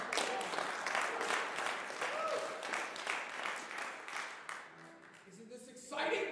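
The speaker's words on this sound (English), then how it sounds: "a huge applause for my man," Concert audience at an international guitar series applauds, sustained clapping that gradually thins and fades, then a voice speaks over the tail end.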